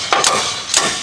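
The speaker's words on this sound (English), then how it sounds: "Attach the axle puller to the inner CV joint and slide the hammer outward" Three sharp metallic impacts of a slide hammer axle puller on a seized Dodge Ram front axle shaft, two close together then a third after a pause, ringing briefly with no talking.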